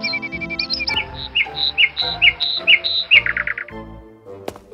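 Noisy bird chirping in a fairy tale scene: a run of bright, repeated tweets and squawks, fairly loud and close, over a soft musical background, with no talking.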